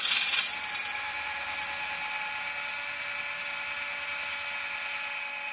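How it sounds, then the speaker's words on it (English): A drill boring straight down into a carbon fiber tower, a loud high whine with a rapid ratcheting stutter at the start as the bit bites, then a steady close whir alone. "you're just going to drill straight down"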